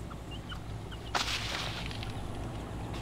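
Jungle fowl chicks with their hen give faint, short high peeps scattered through soft outdoor background noise, punctuated by a brief louder rustle or flutter partway through.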